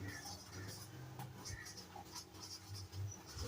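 A pen scratches across a board in quick, irregular strokes, faint and close, with no speech over it.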